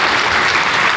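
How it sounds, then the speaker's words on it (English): Audience applause at a tech product keynote on stage, a dense, steady wash of clapping from a large crowd filling the whole moment with no voices over it. "another round of applause"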